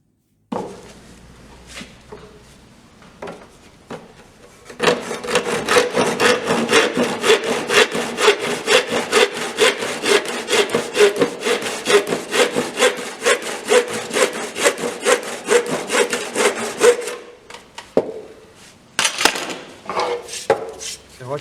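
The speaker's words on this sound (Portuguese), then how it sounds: "Agora com o serrotinho de costas." A small back saw cuts through wood in steady, rapid push-pull strokes, loud and close, running continuously for about twelve seconds after a few lighter scrapes and ending with scattered rubbing taps.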